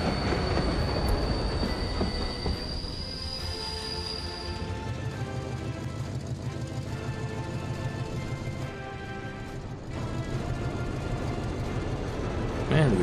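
A freight train in the Soviet-era city-building game Workers & Resources: Soviet Republic rolls in with a steady rumbling drone, a high wheel squeal early on and faint clicking rail noise, continuous and fairly loud with no talk.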